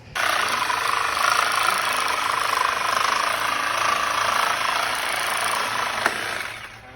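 A Sawzall reciprocating saw cuts through a bolt during junk removal work, with a loud, steady buzzing rasp that runs for about six seconds before tapering off, close and with no talk.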